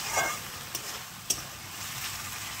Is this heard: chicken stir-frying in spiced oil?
yes